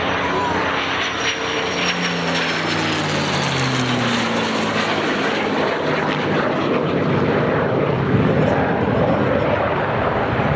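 A Second World War aircraft passes at an air show alongside Czech Air Force JAS 39 Gripens, a loud droning engine roar with a shifting pitch as it sweeps by, sustained across the whole stretch.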